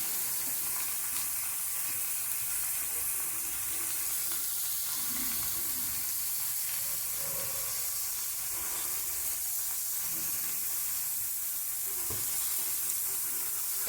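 Cauliflower with chilli powder and spices sizzles steadily in a pan while being stirred, giving a constant close hiss with faint scraping underneath.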